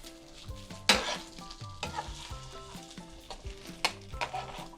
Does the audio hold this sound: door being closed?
no